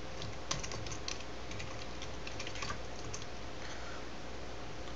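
Steady, quiet computer keyboard typing of a password during a server setup, an even run of soft key clicks with no talk.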